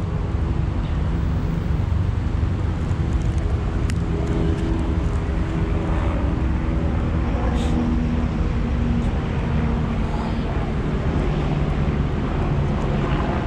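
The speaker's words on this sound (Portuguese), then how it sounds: "São Paulo sempre barulhento, né? É avião, carro, sirene da polícia" Continuous loud urban rumble of traffic with an aircraft drone mixed in, a dense, unbroken roar of city noise in São Paulo.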